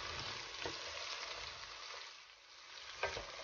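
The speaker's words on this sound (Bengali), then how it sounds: "আর এখানে আমার পেঁয়াজটা ভাজা হয়ে গেছে।" Onions frying in a pan with chili powder and turmeric for a gourd-leaf and rohu fish curry, a steady close sizzle with a few brief stirring scrapes, no talking.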